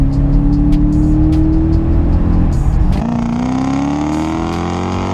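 A 2005 Lexus GS430 drives along with its engine note steadily rising, then dipping and climbing again as the gearbox shifts down through sport mode, a continuous close drone with no one talking.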